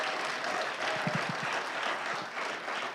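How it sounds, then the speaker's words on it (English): An audience at a Black History Month community event applauds the Shadow Walkers performers, giving a steady wash of clapping from a crowd with a few sharper nearby claps. "can we get one more round of applause for the Shadow Walkers?"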